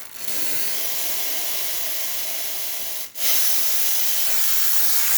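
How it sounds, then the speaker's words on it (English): Steam wand on a Lelit Bianca espresso machine hissing steadily and loudly, close by, with a brief dip near the middle before the hiss resumes. "So now we're going to test the steam wand by turning it on."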